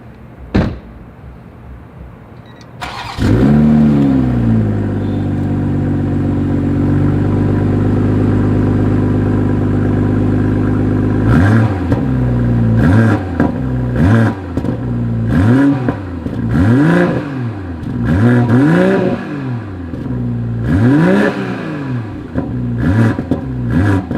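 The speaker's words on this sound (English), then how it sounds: "As always, here is that exhaust clip." A 2021 BMW M440i exhaust starts with a door thunk and ignition burst, settles into a steady idle, then gives a series of sharp rising and falling revs in sport mode, loud and close with no talking.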